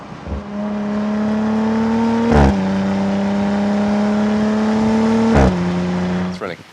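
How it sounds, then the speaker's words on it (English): An Audi RS5 engine holds a loud, steady drone that climbs slowly through the gears, with two brief surges near a third of the way and near the end where the revs jump, then settles again before fading out. "Let's listen to a little bit of the Audi."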